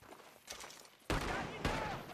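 Gunfire rings out from a barn in the video game Red Dead Redemption 2: two sharp, loud reports about half a second apart, each followed by a ringing tail. Quieter background sound comes before them.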